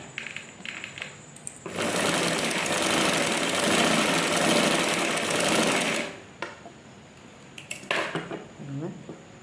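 A sewing machine stitching close along a marked neckline on a blouse, running steadily for about four seconds, followed by light clicks and handling of fabric, with a voice speaking at times.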